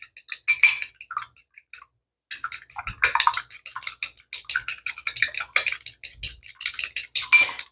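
A utensil mixes a tablespoon of heavy cream in a bowl, quick irregular clinks and scrapes with brief pauses, close and crisp throughout.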